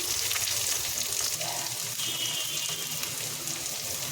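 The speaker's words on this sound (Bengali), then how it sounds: "এবার দিয়ে দিচ্ছি কয়েক কোয়া রসুন আর দিচ্ছি একটা বড় সাইজের কুচিয়ে রাখা পেঁয়াজ সব কিছু একসাথে ভালো করে ভেজে নিচ্ছি" Garlic cloves and a large chopped onion frying together in a hot pan, a steady loud sizzle with watery hiss that holds evenly throughout, no voices.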